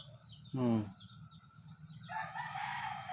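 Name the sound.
chickens and rooster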